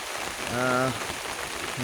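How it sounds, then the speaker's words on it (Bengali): Heavy rain drums steadily throughout while a brief voice-like tone rises over it in the middle. "আজকে অনেক বৃষ্টি হচ্ছে আকাশটা অনেক মেঘলা"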